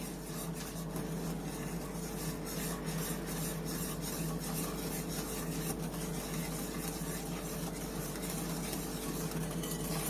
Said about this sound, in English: You're going to whisk that for 2 minutes.